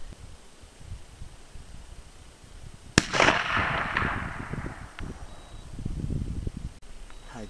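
A single sharp rifle shot from a gun fitted with a tactical scope cracks out, followed by a rolling outdoor echo that fades over a few seconds.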